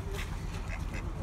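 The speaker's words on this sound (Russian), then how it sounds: "Утки голодные?" Hungry ducks on the water, waiting to be fed bread, give several nasal quacks in quick succession over a constant rumbling background. Voices are faint nearby.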